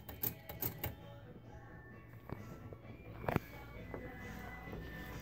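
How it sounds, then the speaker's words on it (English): A Royal manual typewriter with green keys, sharp mechanical clacks and key strikes in an irregular quick cluster at the start, then scattered clicks and a louder snap amid soft background noise. "It's a Royal typewriter with green keys"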